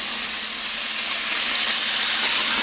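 Water sizzling into steam in a hot pot of broccoli on a high-heat stove, a loud, continuous bright hiss held close and steady throughout, with no talking.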